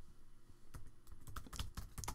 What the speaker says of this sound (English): So I'm just going to type in a few keywords that spring to mind.